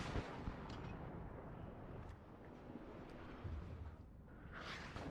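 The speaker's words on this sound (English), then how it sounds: "Rounds are going down range." Artillery rounds firing in the WARNO war game, a steady dense roar of distant barrage with muffled booms and rumbling impacts, plus a brief whooshing swell near the end.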